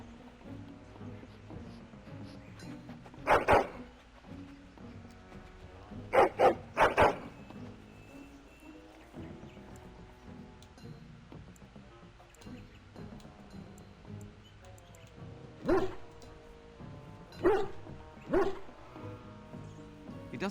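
A dog barks in the fantasy video game Dragon Age: Origins, in short clusters of sharp, loud barks separated by long stretches of quieter ambient game sound and music.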